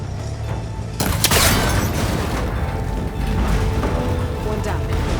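An arrow strikes and shatters a cable connector in Horizon Forbidden West, giving a loud sharp crack and mechanical clatter, followed by continuing rumbling game ambience.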